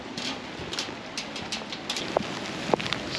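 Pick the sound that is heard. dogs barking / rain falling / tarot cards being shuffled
rain falling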